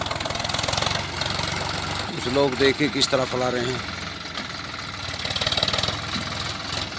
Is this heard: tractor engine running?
yes